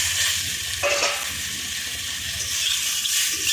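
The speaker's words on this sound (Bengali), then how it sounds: "একটুখানি ভেজে নেব" Boiled amla hits hot oil with panch phoron in a dry pan and sizzles in a steady, close, bright crackle, with a brief stirring scrape near the start and no speech.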